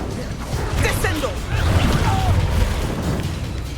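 Spell blasts and explosions in the Hogwarts Legacy video game, a dense stream of bursts, whooshes and crashing impacts with heavy low rumble, loud and continuous, mixed with a voiced character shouting.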